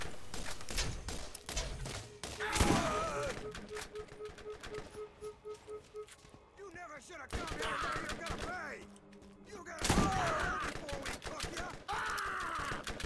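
Bursts of rapid gunfire during a firefight in the video game Borderlands, with clustered shots and explosive thumps, players talking over the fighting.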